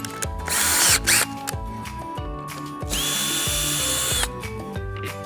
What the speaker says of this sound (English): Then you can finish it off with your drill.